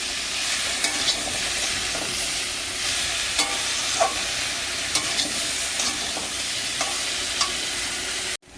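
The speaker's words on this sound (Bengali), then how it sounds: "পেঁপে আলুটা কষানো হয়ে গেছে" Papaya and potato sautéing with salt in a pan, a steady close sizzle and hiss of frying broken by occasional scraping stirs, running continuously before cutting off abruptly near the end.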